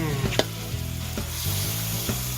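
Squid wings stir-fry with holy basil in a hot pan, giving a steady loud sizzle broken by a few scraping strokes of the spatula and no talking.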